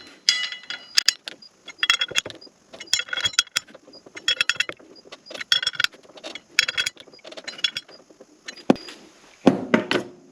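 Brake caliper bolts on a truck's Wilwood brake swap are tightened by hand with a manual torque wrench, giving bursts of quick ratcheting clicks in an alternating pattern, close and fairly loud, separated by short pauses.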